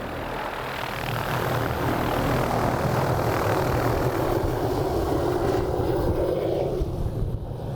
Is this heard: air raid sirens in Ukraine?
no